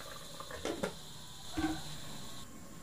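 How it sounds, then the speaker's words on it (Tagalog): Water poured into a simmering pot of corned tuna bulalo, heard as faint, brief splashing bursts over a quiet kitchen background, with no talking. "Dagdagan natin ng konting ah, tubig."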